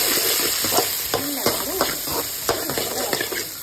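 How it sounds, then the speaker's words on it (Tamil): Small shallots and a little coconut sizzle in a splash of oil, a close, steady frying hiss punctuated by regular stirring scrapes and clinks of a spoon against the pan. "இப்போ கொஞ்சமாக எண்ணெய் ஊற்றிட்டு சின்ன வெங்காயம், கொஞ்சோண்டு தேங்காய்"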